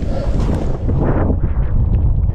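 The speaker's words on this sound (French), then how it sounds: "C'est un vent de face dans la montée avec la neige" A strong, cold headwind buffets the microphone on a steep snowy climb during the Thiers–Roanne trail race, a loud, gusty low rumble that swells and eases throughout.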